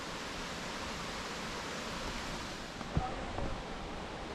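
A cold Himalayan river in Nepal flows past as a steady, full broadband rush of water, close and constant, with a couple of faint brief knocks near the end and no talking.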